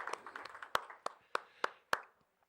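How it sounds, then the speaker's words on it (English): Scattered, sparse clapping from a small audience as a guest singer comes on stage at an El Monte show, a few distinct claps spaced out over a couple of seconds, fairly quiet, then fading to silence. "Give her a round of applause, please."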